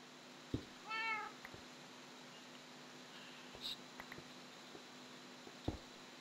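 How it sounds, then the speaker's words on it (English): A cat in the Minecraft video game gives a single drawn-out meow, preceded and followed by sparse block-placing clicks and taps at moderate level, with no talking. "that cat needs to go away"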